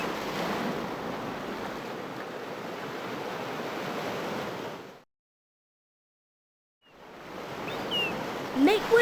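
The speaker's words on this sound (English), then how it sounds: "Make waves all around you. Crash!" Ocean waves crashing as a sound effect in the CD-i reading game Routes to Reading: steady broadband surf roar for about five seconds, a sudden full silence, then the wash of surf returns with some brighter splashy bits.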